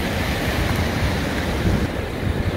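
Ocean surf breaks over a sandbar on the Eastern Cape coast of South Africa, a loud continuous roar of churning white water mixed with wind buffeting the microphone, with no voices.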